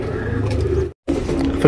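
Female tournament pigeons in Bangalore coo up close in low, rolling throaty calls, broken by a brief silent gap before the cooing resumes and rises slightly at the end.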